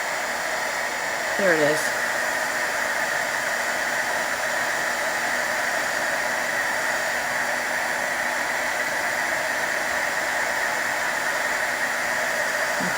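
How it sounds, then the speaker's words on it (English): A heat gun used for heat embossing, blowing a steady loud whooshing hiss with a constant motor whine that runs unbroken close to the listener, while someone briefly speaks early on. "Maybe it'll come back here while I'm heat embossing"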